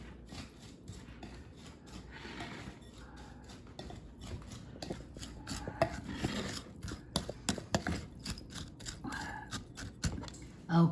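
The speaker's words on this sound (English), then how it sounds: "Mix it together with a quarter cup of panko and a quarter cup of breadcrumbs." Breadcrumbs and panko being stirred together in a bowl for clams casino, giving a steady soft scraping and rubbing with irregular clinks of utensil against the bowl, close and moderately loud.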